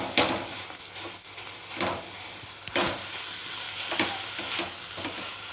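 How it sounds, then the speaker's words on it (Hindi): Burfi mixture roasts in a pan, a soft continuous sizzle broken by regular scraping strokes of a spatula against the pan, moderately close and without talk. "चार से पाँच मिनट हो चुका है इसको भूनते हुए"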